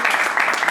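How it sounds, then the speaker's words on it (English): A short burst of audience applause at a professional gathering, with dense clapping from many hands and a voice speaking over it. "clap for yourselves"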